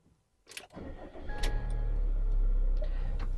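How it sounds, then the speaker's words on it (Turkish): A Peugeot Boxer automatic van cranks briefly and fires up, then settles into a steady, fairly quiet diesel idle, with a couple of small clicks and chimes at the start. "Aracımızın kontağını açıp çalıştıralım."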